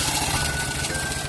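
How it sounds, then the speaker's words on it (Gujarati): A tractor engine idles at a construction site for a village primary health centre, giving a continuous rumbling drone with a faint steady whine, mid-distance and without voices. "ટ્રેક્ટર આવી ગયા છે સિમેન્ટના અને સામે કાંકરી પણ આવી ગઈ છે."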